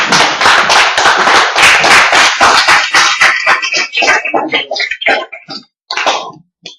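A church congregation at a French-language service claps loudly to acclaim the Lord, with dense, rhythmic clapping that thins out into scattered, uneven claps toward the end.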